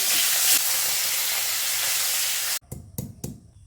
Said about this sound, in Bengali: কড়াই গরম হয়ে গেছে, মাছ ভাজার জন্য তেল দিয়ে দিলাম।